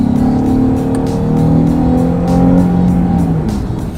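A Jaguar XF with a 3-liter V6 kicks down and accelerates, the engine note rising steadily and holding loud and close for a few seconds with no talking.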